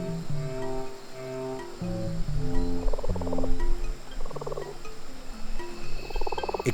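Young froglets just out of the water croak in a dense, overlapping chorus of rhythmic, pulsing calls, with repeated harmonic trills rising and falling at moderate loudness and no voices over them.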